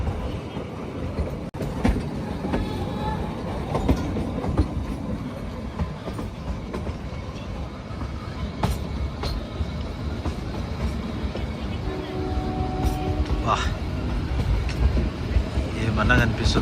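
The Himalayan Queen train on the narrow two-foot-gauge Kalka-Shimla line rumbles steadily with rhythmic wheel clatter and occasional squeals, heard from aboard at moderate volume.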